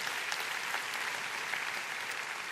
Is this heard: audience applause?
yes